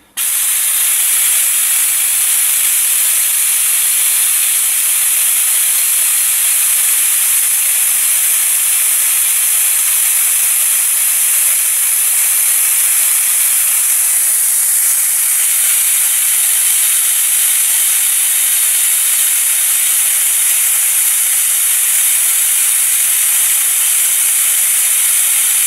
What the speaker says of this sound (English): I'm going to keep it going so you can see the pressure that the compressor can maintain against an open